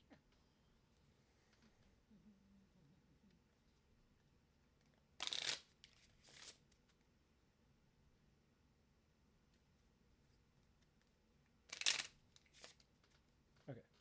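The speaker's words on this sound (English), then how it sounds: "Would you mind shuffling that for me?" Two short, crisp bursts of riffle shuffling from a deck of playing cards, separated by a long quiet pause, each a quick fluttering rattle close to the listener in a quiet room.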